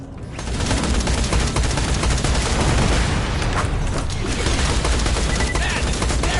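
Heavy, relentless video game gunfire aimed at turrets, a loud wall of rapid automatic shots and blasts that barely lets up from start to finish.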